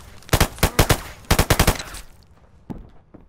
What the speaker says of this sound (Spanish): hay un montón de tiros cerca de las tiendas